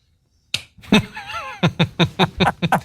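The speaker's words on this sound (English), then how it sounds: "A literal slow clap. Just one." One sharp hand clap rings out after a short silence, followed by a voice and a quick run of further sharp smacking sounds.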